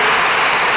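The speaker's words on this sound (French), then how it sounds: "merci d'applaudir" An audience at a French political talk claps in a broad, even wash of applause, loud and close, lasting under a second with no pauses.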